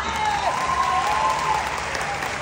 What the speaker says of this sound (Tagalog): Deserve nila ng isa pang malakas na palakpak.